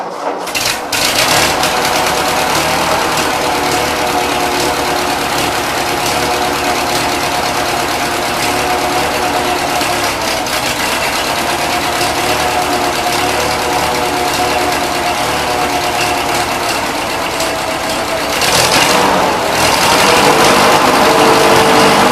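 A 1941 Ford 9N tractor engine runs close by with a loud, steady rapid chugging idle that swells slightly near the end, with no talking.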